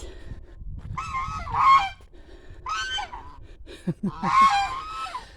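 Several geese honk nearby in short nasal bursts, with a few quick grunting calls between them.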